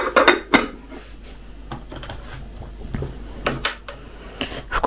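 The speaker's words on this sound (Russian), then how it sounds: "Покроем крышечкой." A metal lid is set onto a cooking pot with clattering and rattling knocks, followed by softer handling sounds, close and fairly loud with no voices.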